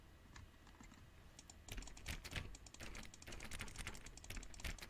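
Rapid computer mouse clicks while playing The Stanley Parable, a dense run of sharp, close taps that grows busier and louder partway through.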